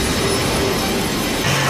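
Thunderbird craft thrusters at maximum vertical thrust roar in a loud, continuous jet-like rush that fills the whole moment, with no voices over it.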